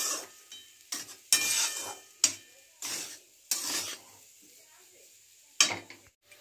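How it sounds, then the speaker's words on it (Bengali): Khasta kachori filling is stirred and fried in a pan, with bursts of scraping and sizzling separated by quieter pauses. The sound is close and intermittent. "ভালো করে ভাজা হয়ে গেছে।"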